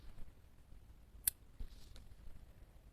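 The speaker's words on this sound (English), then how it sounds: "pull it, and cut the yarn" Scissors snipping crochet yarn, a single sharp close snip followed by a couple of faint handling clicks in an otherwise quiet room.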